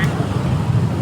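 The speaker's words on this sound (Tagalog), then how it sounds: "Dito mo na makikita yung mga iba-ibang motor," Motorcycles of various kinds pass along a highway at night, a steady low engine and road rumble holding evenly throughout at moderate loudness, with no distinct single pass-by standing out.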